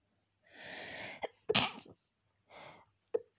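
Several close, loud sneezes during a knitting lesson, the first a longer burst followed by sharp expulsions with short pauses between, in an otherwise quiet room.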